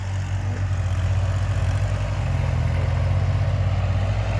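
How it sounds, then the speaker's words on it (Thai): A Kubota tractor engine runs steadily at a low idle-like drone, a continuous close rumble with a faint rhythmic pulse and no pauses or voices. "ผมเองผมก็ขับรถไถครับ"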